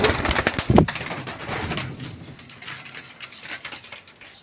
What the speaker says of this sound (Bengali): তো দেখেন এটা আমাদের কবুতরের বাচ্চা